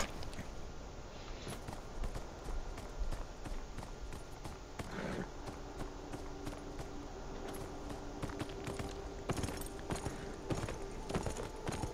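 Horse hooves clip-clop steadily in the video game Beyond: Two Souls, a continuous rhythm of steps at moderate distance with a faint background bed and no talking.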